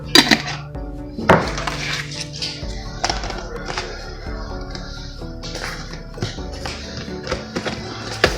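Dove pieces are tossed with a dry rub in a container, with clattering knocks, taps and clinks coming in irregular bursts at close range.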